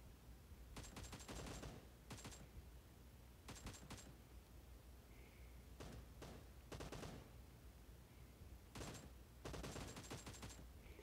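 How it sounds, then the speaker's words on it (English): Bursts of automatic gunfire from a PUBG match come in repeated clusters of rapid shots separated by short pauses, loud and close in a quiet background. "Who you shooting at, huh?"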